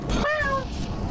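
A single short cat meow from a video game, rising and then falling in pitch and lasting about half a second over background game noise.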